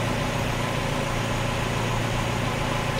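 A Mazda Miata engine idles with a steady, even rumble, a continuous close mechanical drone with no revving and no voices.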